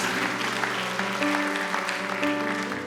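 A church congregation at a rock Christmas celebration claps together, brisk continuous applause mixed with sustained music playing underneath.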